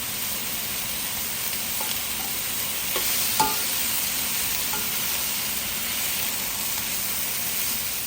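Shallots and herbs fry in a pot for Lao rattan soup with a steady, even sizzle and hiss. Faint stirring clinks break through now and then, and no one talks.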